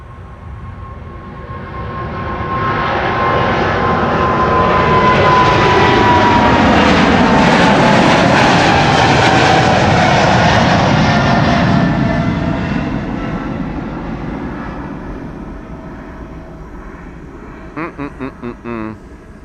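A jet airliner takes off from runway 24 at Amsterdam Schiphol, its engine roar swelling loudly as it passes, peaking mid-way and slowly fading into the distance.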